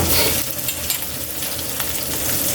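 Onions frying in a pan while cooking a fish dish, a steady close sizzle with stirring scrapes and crackles, moderately loud and continuous without talk.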